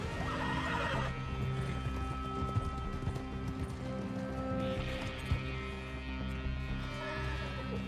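A horse in Red Dead Redemption 2 neighs and whinnies while hooves clip-clop at a gallop, steady and fairly close, over a continuous layer of game music and ambience.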